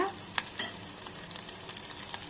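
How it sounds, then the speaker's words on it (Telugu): Dried prawns fry in a pan for a brinjal and dried prawn curry, with a steady sizzle and a few sharp stirring clatters near the start. No one speaks. "ఇలా రొయ్యలు వేగిన తర్వాత"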